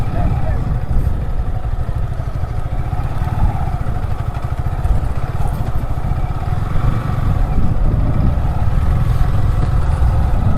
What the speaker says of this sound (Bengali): সমুদ্রের পাড়ে অনেকবার বাইক নিয়ে চালানোর একটা ইচ্ছা ছিল বাট আজকে পূরণ হয়ে গেল